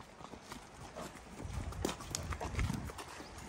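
Hooves of an excitable horse being ridden on a long ride, giving soft, uneven clip-clop thuds, fairly close, over wind and outdoor rustle.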